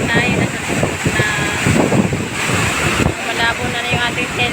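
Water from a waterfall by a beach splashes and rushes continuously, with wind buffeting the phone microphone close up and a roaring wash throughout.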